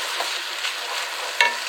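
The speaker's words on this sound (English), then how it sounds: "This way the rice can fry a bit." Rice fries in a very hot pan with a loud, dense, continuous sizzle, and a single sharp metallic clink near the end.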